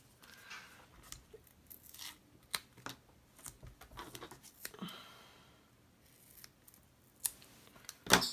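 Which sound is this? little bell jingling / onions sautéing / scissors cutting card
scissors cutting card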